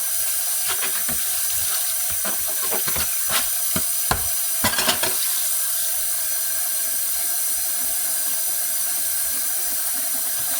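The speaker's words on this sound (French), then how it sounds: "Moi, je lave mon fond avec de l'eau chaude." Fumbwa leaves are rinsed in hot water, a continuous close hiss of running water with a cluster of splashy clatters and handling noises near the start, no voices.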